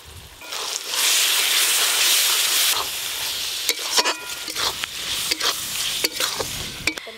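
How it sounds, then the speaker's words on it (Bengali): Spice paste with chopped tomato, salt and a little water for a pangas fish curry gravy fries in a hot pan with a loud steady sizzle, then a spoon scrapes and stirs it in quick, irregular strokes. "লবণ, অল্প একটু জল দিয়ে মশলাটা আরেকটু ভালো করে কষবো।"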